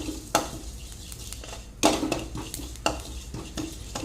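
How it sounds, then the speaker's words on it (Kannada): Ajwain and cumin seeds fry in a pan under a soft background sizzle. A utensil stirs and scrapes against the metal in several sharp, irregular clinks. "ಓಂ ಕಾಳನ್ನು ಹಾಕಿದ್ದೇನೆ ಇದು ಎರಡು ಕೂಡ ಬೇಗನೆ ಫ್ರೈ ಆಗ್ತದೆ"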